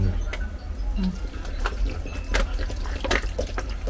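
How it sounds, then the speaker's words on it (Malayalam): Two litres of water pour steadily into a pot, a continuous splashing fill with scattered clinks and knocks of kitchen items. "ലിറ്റർ ഒഴിക്കാം രണ്ട് ലിറ്റർ വെള്ളമല്ലേ"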